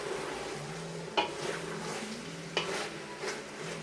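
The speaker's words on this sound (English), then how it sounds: "So we keep stirring" Pork frying in oil in a pan for Samoan chop suey, with a spatula stirring through it: a steady sizzle broken by two or three sharp scrapes and clinks of the utensil against the pan.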